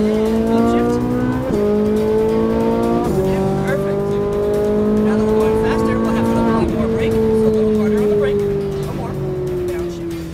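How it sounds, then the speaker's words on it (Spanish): A Ferrari race car on a track, its engine loud and close, revving up through rising pitch sweeps and dropping at each gear shift across several shifts, with a voice talking over it. "Con un poco de nervios, Carmina ya en el volante de su Ferrari empieza finalmente su aventura a máxima velocidad."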